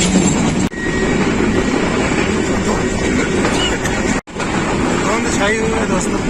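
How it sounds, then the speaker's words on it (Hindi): Pakistan Express passenger train on the ML1 line toward Wazirabad in Pakistan, heard from aboard as a loud, steady rumble and rattle of the carriages, with a brief dip in the noise partway through. "अभी ट्रेन कोरंग रिवर के ऊपर से गुजरेगी और साथ ही छोटी सी टनल आएगी।"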